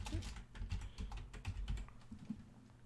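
A computer keyboard clatters in quick, close bursts of typing keystrokes and clicks, uneven in rhythm, with no voice over it.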